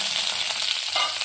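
Curry leaves crackle and sizzle in hot oil with browned cumin and other tempering ingredients for an idli dish, a close, steady frying hiss with sharp pops.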